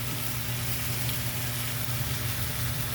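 Three eggs frying in a pan, giving a steady, even sizzle with a faint low hum underneath, continuous and close with no talking.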